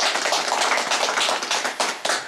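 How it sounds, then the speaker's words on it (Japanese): Polite round of applause from a gathered audience at a Japanese community danjiri festival association meeting, dense even clapping sustained throughout, fairly close and unaccompanied by speech. "ささやかですけどもお礼という意味で、拍手をお願いしたいと思います。"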